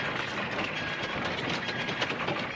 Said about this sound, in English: Sam, why does this train have to leave?